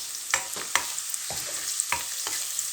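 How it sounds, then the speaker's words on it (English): Garlic frying in a pan, heard as a steady bright sizzle broken by several close spoon scrapes and clacks against the pan, with no one talking. "So in goes the garlic."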